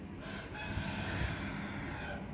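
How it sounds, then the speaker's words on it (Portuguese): Many roosters crowing early in the morning, their calls overlapping at a distance over a constant hiss of background noise, with no talking. "tem muito galo cantando"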